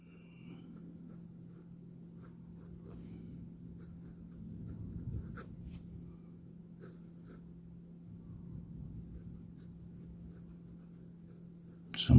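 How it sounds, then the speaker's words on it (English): A fountain pen with a steel #6 1.1 stub nib, a Gioia Metis Amaranto, writing on paper: soft continuous scratching strokes with small pauses between words, close and quiet, ending with a brief louder bump. "And I like to write with this nib."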